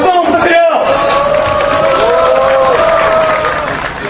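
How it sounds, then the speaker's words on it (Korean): A crowd at an outdoor rally applauds as a birthday cake is brought out, with sustained clapping and cheering throughout and a few voices rising over the noise. "박수 한번 부탁드려요."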